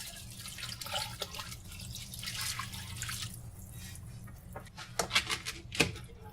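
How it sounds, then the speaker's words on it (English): Water from an overfilled 4-cup measuring cup poured into a too-small pot for vegan one-pot pasta, a continuous splashing stream with a few sharper drips and splashes near the end. "Add the normal amount of water."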